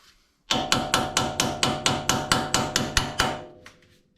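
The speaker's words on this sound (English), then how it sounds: "Go ahead and hammer your socket into place." A metal hammer drives a 3/4 socket onto a nut, striking sharply about a dozen times in a steady, even rhythm, each ringing blow close and loud, then stops.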